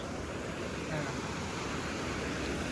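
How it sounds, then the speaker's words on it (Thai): Steady, dense rushing of the Huai Pa waterfall, a constant broadband roar of falling water with no breaks. "ตอนนี้จะเป็นน้ำตก ของห้วยปะเนี่ย"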